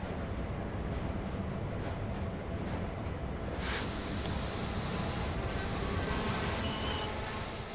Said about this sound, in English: I'm just driving a train